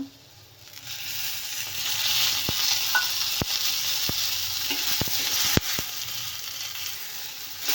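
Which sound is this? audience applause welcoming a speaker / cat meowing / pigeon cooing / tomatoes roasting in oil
tomatoes roasting in oil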